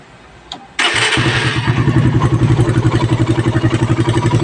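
Stock Suzuki Raider motorcycle fitted with Koso carburettor jetting cranks and fires up, then settles into a loud, close, steady throbbing idle with slight rhythmic revving pulses, no voices over it.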